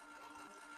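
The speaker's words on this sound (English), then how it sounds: "Pardon the noise from the vacuum pump" A vacuum pump keeps a fusor chamber at low pressure for a high-voltage glow discharge test, producing a faint, steady mechanical hum with a fast, even rattling rhythm and no voices.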